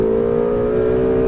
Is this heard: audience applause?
no